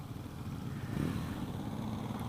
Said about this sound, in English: I love the way the engine shakes the bike.